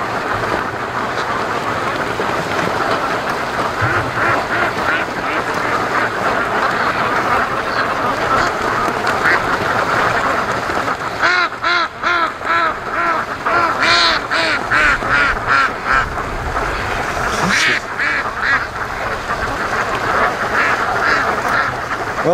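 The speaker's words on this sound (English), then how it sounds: "I think these are some seriously spoiled ducks and geese." Free-range ducks and geese gather by a lake fed by a creek, quacking and honking in a dense, loud, continuous chorus. Splashy water noise runs underneath.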